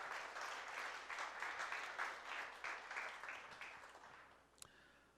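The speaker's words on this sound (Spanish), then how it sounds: "Dale un aplauso si lo puedes creer." A church congregation applauds during a worship service, a dense wash of many hands clapping that holds steady and then thins out toward the end, with a brief sharp knock near the close.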